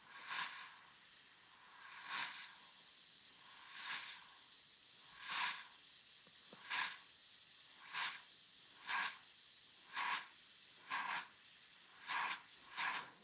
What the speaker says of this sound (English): I was cleaning out the airbrush and I forgot to turn it down.